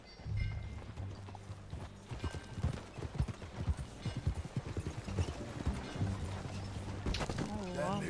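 Horse hooves clip-clopping in the Red Dead video game, with a whinny from the new horse near the end, under music and voices talking.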